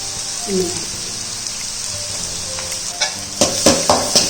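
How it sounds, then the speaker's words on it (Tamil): Onion and crushed garlic sauté in a pan with a steady, close sizzle and occasional scraping stirs that grow louder near the end, while a faint voice speaks briefly. "நல்லா கிளறி விடுங்க ரெண்டும் சேர்ந்து கொஞ்சம் இன்னும் கொஞ்சம் நல்லா வதங்கட்டும்"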